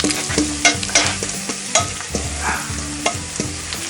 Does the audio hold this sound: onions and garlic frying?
yes